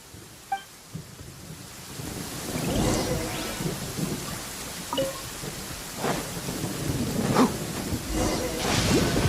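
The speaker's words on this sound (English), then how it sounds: "Uh-oh! Lightning storm!" Lightning storm in Genshin Impact: steady rain with rumbling thunder and sharp cracking strikes, several flashes of noise spread across the stretch, no talking.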